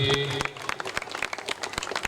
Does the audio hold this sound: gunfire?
no